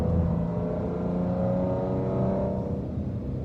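A Dodge Challenger SXT Plus AWD engine holds a steady drone in fourth gear at about 3,500 RPM, heard from inside the car as a continuous loud hum with faintly rising tone.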